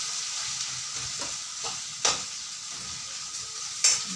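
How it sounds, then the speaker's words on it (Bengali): Grated ginger and spices stir-fried in a pan for a home-style bottle gourd, lentil-dumpling and chana dal dish, giving a steady close sizzle with a few sharp scraping stirs. "প্রথমে আদাটাকে ভেজে নিলাম"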